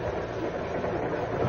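A passenger train runs on its rails, a steady, close, broadband rumble with a faint wheel clatter that holds throughout without any voices.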